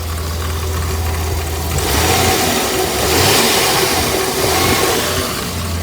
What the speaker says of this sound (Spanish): Bien asentado el motor.